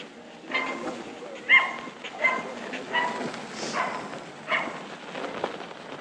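A dog gives repeated whimpers and short yipping barks in uneven bursts, fairly close, with a person talking at moments in between.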